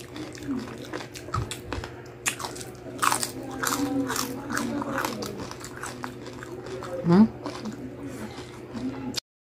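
Crunchy bites into freshly cooked, deep-fried crispy pata (pork leg) with crackling skin, several close crisp crunches and chewing under ongoing talk, with one louder bite near the end.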